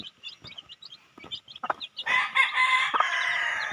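Chicks peep in quick high chirps nearby, then adult chickens break in with louder clucking and a crowing-like call, all close and without talk.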